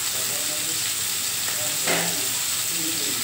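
Bitter gourd fries in a pan with a steady, close sizzle and hiss, swelling briefly into a louder crackle midway.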